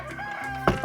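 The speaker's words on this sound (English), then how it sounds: "So you guys hear the chicken and the roosters behind me?" Chickens and roosters cluck and call on a farm, slightly distant behind the listener, with a louder squawk near the end and no talking.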